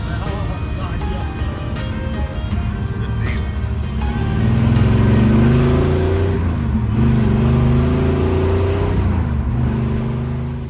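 Big block first-generation Camaro with a 4-speed manual driving, heard from inside as a loud, deep engine drone that swells as it accelerates through a gear and then settles, steady throughout.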